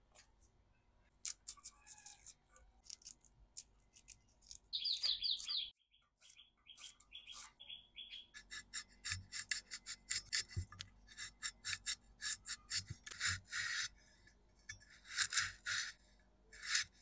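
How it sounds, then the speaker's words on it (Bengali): A knife cuts onion, potato, tomato and eggplant on a board in a home kitchen. The chops are close and crisp, coming in quick irregular bursts throughout, with a brief chirping tone partway through and no talking. "চলুন এবার সবজিগুলোকে এক এক করে কেটে নিই।"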